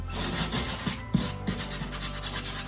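A purple secondhand power sander works over wood, giving a continuous rasping rub with uneven strokes and a few sharper scrapes, fairly close and steady, with no talking.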